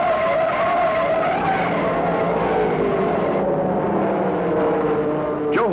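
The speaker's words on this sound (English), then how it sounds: "When he lost it and started to spin, Jim Gressley in number 7 moved to the high" A 1960s race car at a racetrack spins out and skids in a crash, tires squealing loudly and continuously with engine roar as the car slides, ending in a sharp screech.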